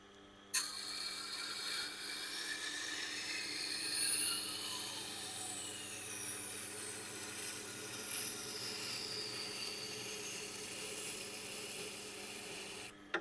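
A butcher's knife is ground on a Tormek wheel at the 320 grit setting, giving a steady, close mechanical whir and grinding hiss that runs unbroken throughout, with bright scraping tones rising and falling over it.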